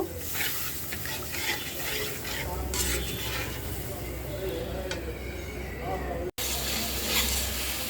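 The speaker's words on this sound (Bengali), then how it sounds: "দিয়ে আমি মশলাটা ভালো করে কষিয়ে নিব।" Ginger, garlic and cumin paste with chili, coriander and turmeric powders sautés in a pan for a koi fish dish, a steady close sizzle broken by stirring scrapes, with talking over it.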